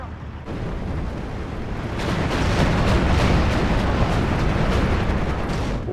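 Artillery fire in the video game Steel Division 2 builds into a dense, continuous barrage of rumbling booms and blasts, loud and sustained, swelling after a quieter opening.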